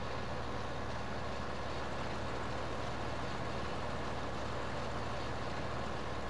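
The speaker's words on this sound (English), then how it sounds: "Left the engine running as well." A tractor engine idles in Farming Simulator 15 during a barley harvest, a constant low rumble that chugs along evenly at close range with no talking.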